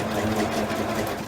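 A sewing machine runs close up in a steady, fast whirring rhythm while stitching through four layers of t-shirt fabric, with no speech over it.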